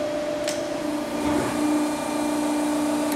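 A metal shear machine runs with a steady, even mechanical hum and drone, close and constant throughout, with a faint brief tick near the start.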